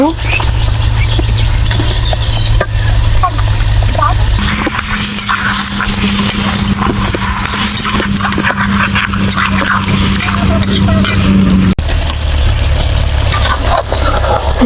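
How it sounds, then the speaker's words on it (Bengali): Duck meat sizzles loudly and steadily in a cooked-down spice paste for a Bangladeshi duck curry, with a low hum underneath and a shift in the frying tone partway through. "মশলাটা কষানো হয়ে গিয়েছে এখন মাংসগুলো দিয়ে নিব"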